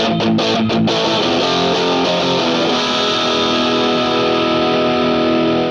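Stereo electric guitar played through different amps and distortion on the left and right channels, a dense, loud, continuous wall of distorted chords with a few choppy stabs at the start before sustaining.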